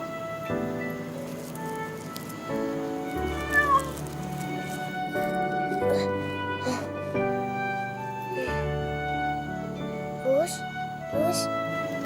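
A rescued cat gives a few short, rising meows near the end. Steady background music runs underneath, and voices speak around it.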